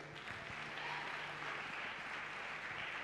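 A church congregation at a French-language worship service claps and cheers together in a steady, faint wash of applause that runs without a break, with no clear voice rising above it.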